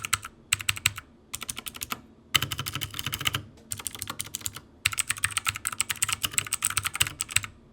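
Typing on a mechanical keyboard with loud, clicky, tactile blue switches, rapid bursts of crisp clicks separated by brief pauses, close and clear with no talk.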